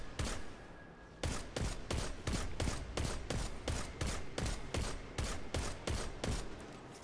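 Rapid gunfire from the player's gun in Destiny 2, a steady burst of loud, evenly spaced shots, roughly three per second, continuing without pause and heard alone with no talking.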